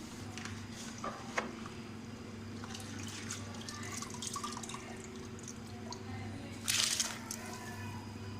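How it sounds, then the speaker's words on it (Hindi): Rice is tipped into a pot of boiling water while making chana biryani, with soft bubbling and faint drips throughout and a brief, louder splash near the end. "पानी को उबाल आ चुका है। अब इसमें हम चावल डाल लेते हैं"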